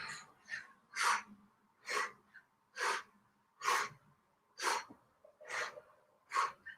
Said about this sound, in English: Kundalini breath, breathe in, breathe out, breathe out.